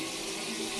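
Tap water runs steadily into a sink drain that is clogged with limescale, a continuous hiss of filling that stays even and fairly close throughout the short stretch.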